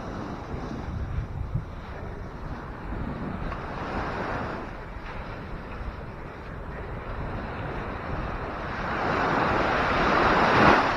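Ocean waves roll and break along a Zambales shoreline in a steady wash of surf with wind buffeting the microphone, swelling louder near the end, with no talk.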